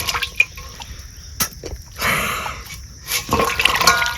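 Gondhoraj lemons, lemon leaves and green chillies being rinsed under running water, with bursts of splashing and trickling between short drips and handling noises, close and fairly loud with no talk.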